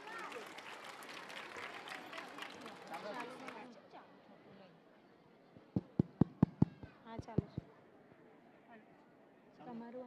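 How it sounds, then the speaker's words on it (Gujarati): An audience at a school annual function applauds in a burst of mixed clapping and crowd noise, then it thins to a few sharp, loud isolated claps, with voices speaking throughout. "તો એમના માટે એકવાર જોરદાર તાળીઓ થઈ જાય."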